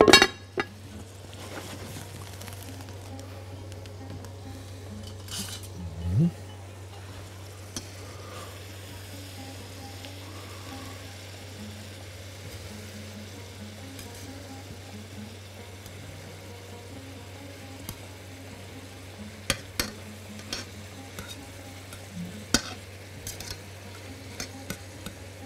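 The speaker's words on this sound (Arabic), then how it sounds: "نقلب السمك بتاعنا" Fish cooking and being turned in a pan, giving a low, steady sizzle over a constant hum, with scattered clinks and scrapes of a utensil against the pan.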